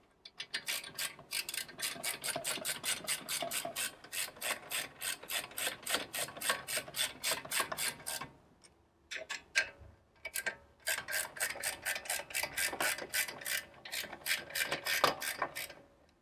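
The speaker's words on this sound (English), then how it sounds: "I'll just get an Allen key to crank that down with." An Allen key ratchets down a bolt on an aftermarket big brake kit caliper. Fast, close, rapid clicking runs in long bursts with a brief pause midway, then resumes.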